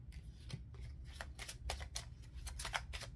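Hidden Truth Oracle cards being shuffled by hand, a quiet, close series of soft riffling bursts and flicks in an uneven rhythm.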